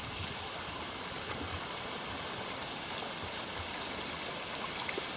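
A waterfall and stream at Hazelbrook Baths in the Blue Mountains give off a steady, even rush of water, a continuous broadband wash with no other sounds above it.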